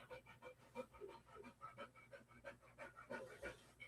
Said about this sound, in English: I'm getting worked over by the dog.